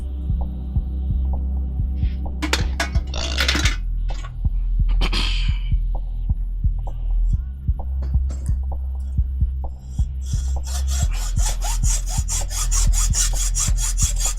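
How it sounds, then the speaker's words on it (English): A hacksaw cuts through mild steel with rhythmic back-and-forth strokes, the rasping grows faster and denser toward the end, all over a constant low mechanical hum. "And then I'm just gonna hacksaw it off."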